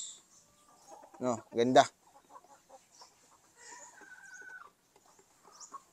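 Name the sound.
chickens clucking in a coop, Brahma cross breeds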